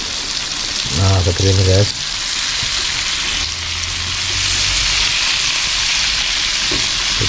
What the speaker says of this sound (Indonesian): Kita goreng jadikan satu penggorengan.